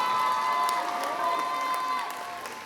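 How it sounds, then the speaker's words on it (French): An audience at a cosplay contest award ceremony cheers and applauds the contestants on the podium, a dense, loud wash of crowd noise with shouts that eases off slightly toward the end. "On peut les applaudir bien fort, s'il vous plaît."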